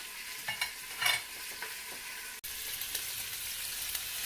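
Pork carnitas browning in a pot on a stovetop, with steady frying sizzle and a few scraping stirs of a spoon against the pot, close and moderately loud, no talk.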